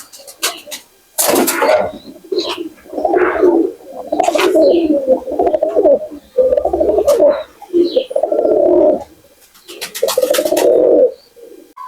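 Pakistani pigeons coo in repeated soft, throaty phrases close by, several overlapping calls with brief pauses between bursts.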